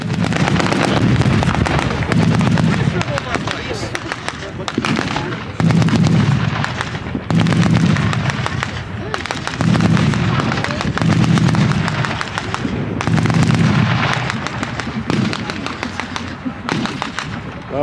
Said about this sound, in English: Once the machine gun fire starts and the tanks get fired up, you won't really be able to hear anything.